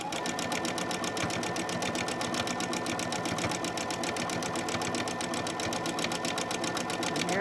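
A sewing machine runs steadily while stitching a baby burp cloth, its fast, even needle chatter continuous and close throughout.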